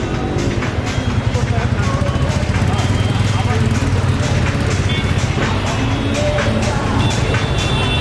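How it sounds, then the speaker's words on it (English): Dense, loud city road traffic in Bangalore at night on Valentine's Day, a continuous roar of engines and passing vehicles close by, with voices talking over the din. "Bangalore traffic during Valentine's Day time day. It's 9:30 here, but still traffic is like hell."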